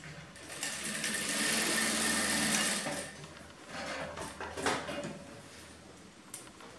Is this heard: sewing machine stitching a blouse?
yes